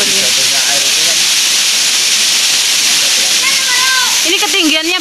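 A waterfall about 40 meters high at Coban Pelangi Senggreng pours in a loud, steady broadband roar, with people talking intermittently over the rushing water.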